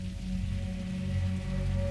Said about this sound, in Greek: ξέσπασε μία έντονη βροχόπτωση που συνοδευόταν από αστραπές και βροντές